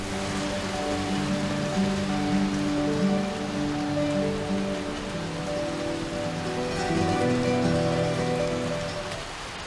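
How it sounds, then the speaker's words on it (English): Steady heavy rain pours down, a dense, continuous hiss of drops pattering on surfaces, loud and close with no voices. "Hear that sound? That is a proper rain."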